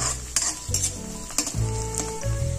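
Onion and green chilli fry in a pan for a chicken and black gram dish, with loud sizzling and a spoon clanking and scraping against the metal in quick, uneven strokes.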